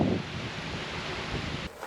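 Waves washing onto the shore of Lake Mojave, heard as a steady broadband wash mixed with wind noise on the microphone, fairly close and continuous before dropping off near the end.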